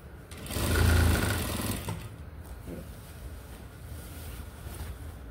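A sewing machine stitching a salwar waistband, a loud close whirring burst that winds down into quieter fabric handling and faint background noise.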